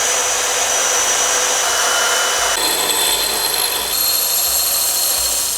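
A Harbor Freight cordless bandsaw cuts steadily during a camper build, giving a loud, continuous high motor whine whose pitch shifts twice partway through and then cuts off abruptly.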